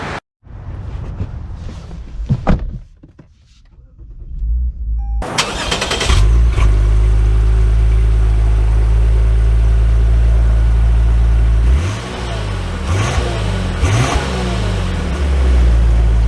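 A 2023 Lexus IS 350 F Sport starts up, idles loudly, then drives off, its engine revving and rising through several accelerations with gear-change dips, close and dominant throughout.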